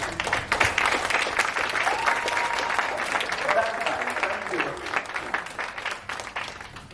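Audience applause at an inclusive dance event, a dense, continuous patter of many hands clapping for several seconds at steady volume.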